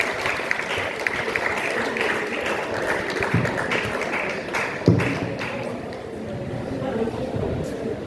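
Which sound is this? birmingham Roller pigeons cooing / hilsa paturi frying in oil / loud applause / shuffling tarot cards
loud applause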